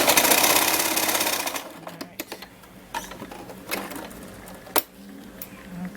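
A sewing machine runs a tuck-in stitch on a strapless twisted dress, with a fast close whir at first that stops, followed by scattered clicks and handling noises.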